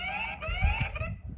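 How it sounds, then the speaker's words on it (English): Siren alarm from an ANRAN solar-powered wireless PTZ security camera, a short wavering electronic wail heard faintly from a small speaker over low rumbling background noise. "that's the siren"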